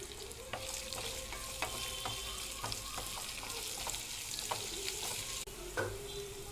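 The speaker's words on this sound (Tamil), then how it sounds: "மல்லித்தலை போட்டு கொஞ்சம் வதக்கட்டும்." Coriander leaves and green chillies saute in a hot pan for paneer butter masala, giving a steady close sizzle broken by occasional spatula taps and stirring scrapes.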